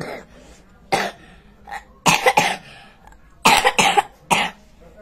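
A child coughs in several separate bursts, some single and some doubled, loud and close, with quiet gaps between them.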